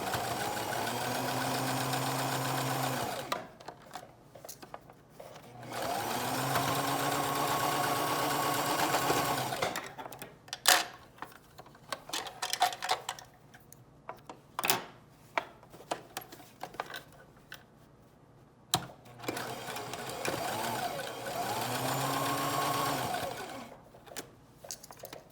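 A sewing machine stitches layers of fabric for a three-layer mask, running in bursts of steady whirring that stop and start between quiet pauses, with clicks and small handling noises in the gaps.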